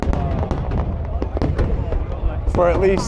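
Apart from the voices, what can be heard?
fireworks show over Saigon riverside on New Year's Eve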